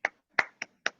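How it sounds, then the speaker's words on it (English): Four sharp, scattered handclaps from an online meeting group, spaced unevenly over about a second, close and fairly quiet with silence between each clap. "give the team just a round of applause"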